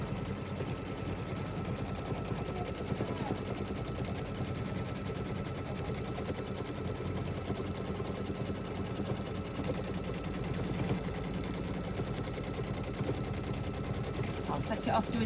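A sewing machine stitches a quilt with a fast, even mechanical chatter that runs steadily throughout at moderate volume, close by, with faint background speech.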